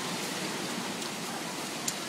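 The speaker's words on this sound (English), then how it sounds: "Hailstorms, heavy rain, wind, thunderstorms." A summer hailstorm with heavy rain, heard as a dense, steady hiss of downpour with no pauses, fairly faint and even, broken by one brief sharp tick near the end.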